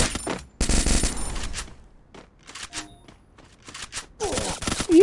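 Bursts of automatic gunfire from the mobile battle-royale game Free Fire, loud and close, coming in several rapid volleys separated by quieter gaps with scattered single shots and faint movement sounds.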